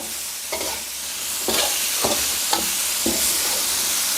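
Pork cartilage dry-roasted with herbs is stirred in a hot pan, a continuous loud sizzle broken by regular scraping strokes about every half second to second, close up.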